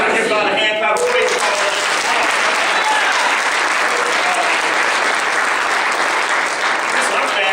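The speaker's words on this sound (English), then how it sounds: "Now give God a hand clap of praise." A church congregation gives a loud hand clap of praise, sustained dense applause filling the room, with a voice talking briefly at the start before the clapping carries on alone.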